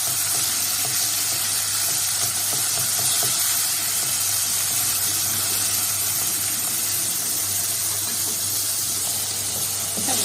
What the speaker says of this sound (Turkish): Kızgın yağımızın içine bir kısmını koyuyoruz.